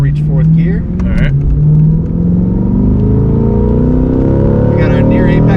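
A Corvette C8 accelerates hard on a racetrack, its engine droning loud and close with rising pitch as it climbs through the gears toward fourth, while a driver talks over it.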